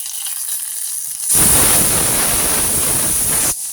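Grated coconut hits a hot frying pan with a sudden loud, steady sizzle that lasts about two seconds before quieting, with quieter kitchen noise before and after.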